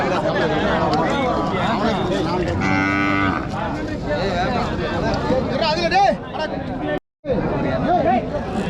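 Cattle moo loudly over a busy crowd at the Matrapalli cattle market, with people chattering nearby throughout.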